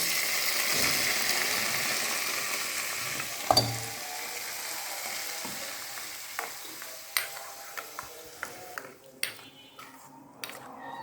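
Hot oil frying for chicken momo, a soft continuous sizzle that fades over time, joined by a sharp clack and then scattered light metallic taps and scrapes of a utensil against the pan.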